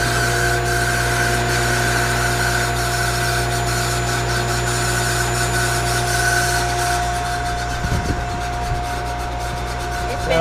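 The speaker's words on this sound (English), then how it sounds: "Then you can go ahead and open this and turn on your pump." Steady electric propane pump running while filling a built-in RV propane tank, a loud continuous hum with a constant drone and rough rubbing texture, unchanging for about ten seconds.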